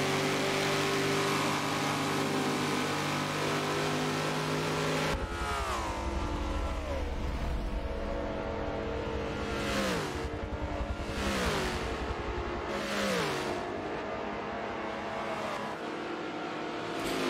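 A 650 horsepower Camaro fitted with the 1LE package screams at wide open throttle in Forza Motorsport 7, loud and close, the engine climbing steadily through gear after gear with a quick dip at each shift.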